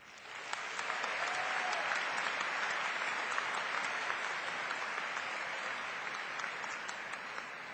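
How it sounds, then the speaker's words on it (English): Sustained round of applause from a large audience at a fall commencement ceremony, rising quickly and holding steady for several seconds with dense, even clapping. "please join me in a round of applause for the Boston Mountain Brass Works and Schola Cantorum"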